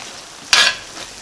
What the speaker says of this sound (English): Now we'll check on the veggies. We'll give it a stir.